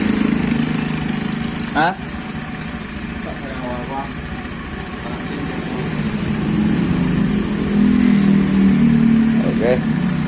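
A Honda Beat motorcycle with a draining battery, ignition loss and unstable, sputtering running drones steadily up close, swelling slightly as it is revved, while people talk over it.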